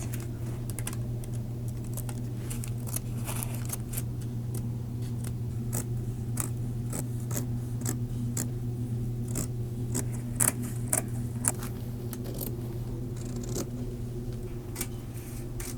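Scissors cut lightweight hat fabric in a quick series of sharp snips over a steady low hum, the crisp cuts recurring irregularly throughout and a few louder near the end.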